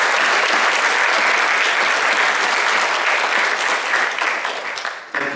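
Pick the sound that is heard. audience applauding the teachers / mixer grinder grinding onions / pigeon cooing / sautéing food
audience applauding the teachers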